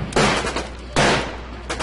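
Bursts of rapid gunfire in a zombie shooting video game, two long loud volleys and the start of a third, each a dense rattling stream, with no talk.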